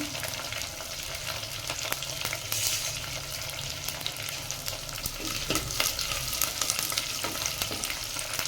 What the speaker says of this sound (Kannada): ಇವು ಸ್ವಲ್ಪ ಮೆಣಸಿನ್ಕಾಯಿ ಫ್ರೈ ಆಗಲಿ, ಆಮೇಲೆ ಈರುಳ್ಳಿ ಹಾಕ್ತೀನಿ.